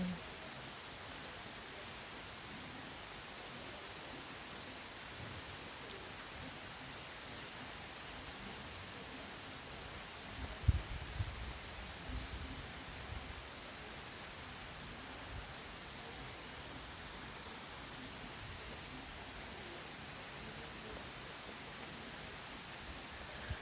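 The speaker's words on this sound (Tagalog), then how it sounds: "Maulan talaga na maulan." Rain falls outdoors as a soft, even hiss, distant and fairly quiet throughout, with one brief thump near the middle and no talking.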